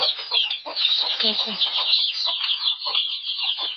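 A crowd of chickens clucks and cackles nonstop inside a chicken house, their close, dense chatter overlapping without a break.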